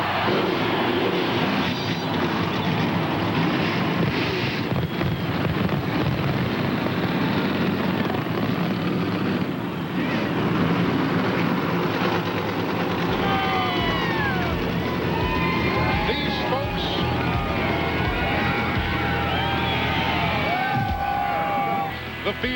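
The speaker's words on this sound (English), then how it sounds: "Let's fire them up as the command from Jack Johnson is about set to go. Start your engine!" A field of stock cars fires up together for the 1999 Winston Open. The engines build into a loud, sustained roar with higher revving whines layered on top, and crowd noise fills the background.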